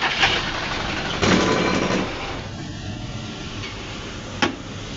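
Forklift diesel engine, under repair for a fuel float and drive fault, starting up and settling into a steady low idle, with a few short bumps in the rumble and no talking.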